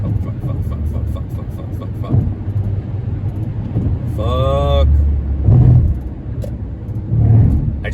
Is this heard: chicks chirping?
no